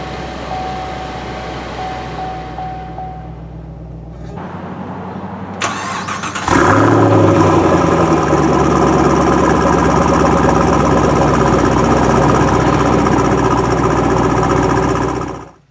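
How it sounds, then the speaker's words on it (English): A 2016 Chevy SS with a 6-speed manual is started: a few faint clicks, then the engine cranks and catches with a loud flare before settling into a steady, close, rumbling idle that stays even until it cuts off. "And the engine roars to life."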